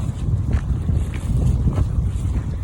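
Steady outdoor wash of wind and breaking waves on a Saudi Arabian shore, a constant low rumble with soft surges, no voices.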